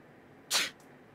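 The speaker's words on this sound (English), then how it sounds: "Ooh, sneezed." A game character in Persona 4 Golden gives one quick, breathy sneeze, a short sharp burst close up with a faint trailing puff.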